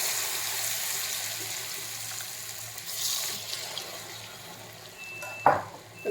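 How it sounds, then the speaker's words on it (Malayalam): Churukku batter poured into hot oil to fry the snack, giving a steady, fairly close hiss and sizzle with a brief louder splash and clatter near the end. "നമ്മൾ മിക്സ് ചെയ്ത് വെച്ച മാവ് ഒഴിക്കാം"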